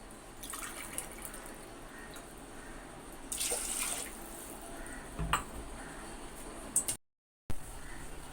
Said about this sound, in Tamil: 2 கிளாஸ் தண்ணி நான் இதில் ஊற்றிக்கிறேன்